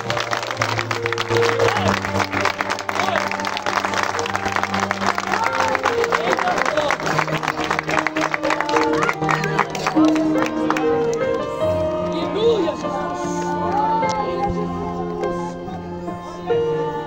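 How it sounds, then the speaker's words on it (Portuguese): Guests at a church wedding applaud the bride with dense, sustained clapping that mixes with crowd voices and music before easing off toward the end. "Uma salva de palmas."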